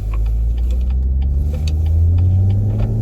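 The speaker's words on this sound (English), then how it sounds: "This is the first time driving it with the limited slip diff." A BMW M140i fitted with an M Performance limited slip differential is driven gently, a steady low engine drone and road rumble from inside the car with light ticking and clicks.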